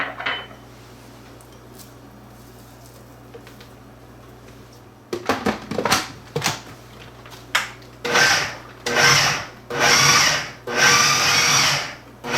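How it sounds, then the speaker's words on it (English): A food processor combines sausage, bread cubes and grated lemon peel, its motor whirring in several short, loud pulses of grinding and chopping after a quiet start with a few knocks. "This is all going in my food processor to combine."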